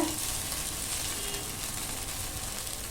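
A barnyard millet ghavne pancake sizzles steadily on a hot pan just after being flipped, a continuous close frying hiss with no talking.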